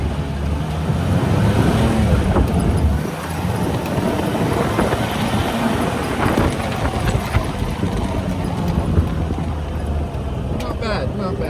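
An old International Scout or Toyota Land Cruiser accelerating gently on a road, a steady loud engine and road rumble filling the cabin throughout, with a voice speaking over it.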